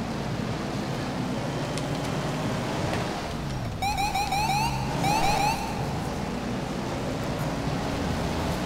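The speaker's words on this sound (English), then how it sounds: "That is why I'm flipping my siren through lights and stuff." A police car siren in the GTA V LSPDFR mod wails in short bursts, quick yelps and warbles chirping for about two seconds over a steady low rumble of engine and ambient noise.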